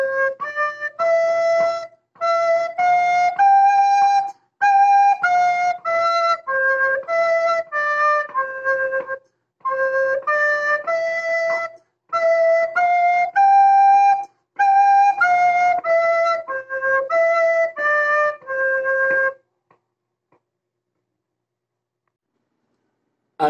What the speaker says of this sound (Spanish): un canon a cuatro voces muy bonito que se llama A Jugar y suena así en la flauta.